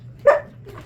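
A dog gives a single short, sharp bark indoors at bedtime, close and fairly loud, followed by a softer, fainter yip or whine over a low background hum.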